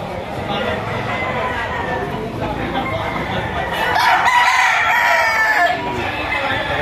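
Young roosters (stags) crowing at the Lipa poultry auction market, several overlapping crows and clucks rising mid-clip amid a busy crowd, with someone talking nearby.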